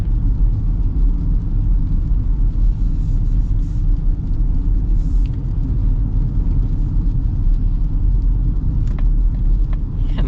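A 2025 Honda CR-V Hybrid or Mazda CX-50 Hybrid accelerates, heard from inside the cabin as a loud, steady low rumble of engine and road noise with little variation.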